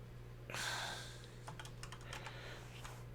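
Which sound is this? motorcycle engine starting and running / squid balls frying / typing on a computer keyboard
typing on a computer keyboard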